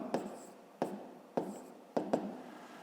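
Pen writing an equation on paper in a quiet room: four short scratchy strokes, each a quick sharp onset fading off, evenly spaced and close.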